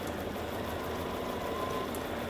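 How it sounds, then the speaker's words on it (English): A sewing machine stitches binding onto a quilt, a steady continuous motor whir running close and unbroken throughout, with no voices. "I'm gonna have to put this binding on without the benefit of my stitch in the ditch foot."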